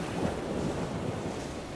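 Ocean surf rolling in steadily with wind blowing across it, a continuous broadband wash of waves heard alone with no talking.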